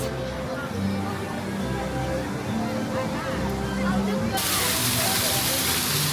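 Waterfall at Disney's Magic Kingdom park at night, a steady rushing wash of falling water that swells louder partway through, with crowd murmur and voices underneath.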